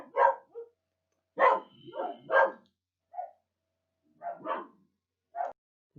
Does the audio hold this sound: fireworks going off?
no